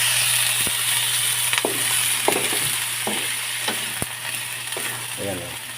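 Chicken pieces fry for adobo in a pan, with a loud continuous sizzle and a spatula scraping and stirring at irregular intervals close by.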